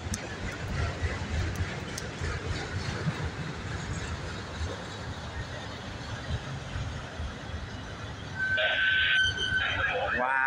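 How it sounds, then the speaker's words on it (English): A short freight train with auto rack cars rolls past in Cincinnati, Ohio, with a continuous rumbling clatter of wheels on rails, and a brief metallic squeal near the end. "Short train for the auto rack."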